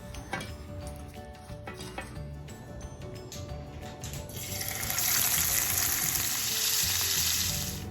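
Hilsa fish frying in hot oil, a steady crackling sizzle that swells louder and brighter partway through, with a few sharp spatters and clinks early on and no voices.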